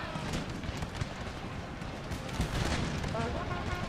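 Puckle gun fire in Empire: Total War, a dense continuous crackle of musketry and volleys blending into battle chaos, loud and steady across the whole stretch.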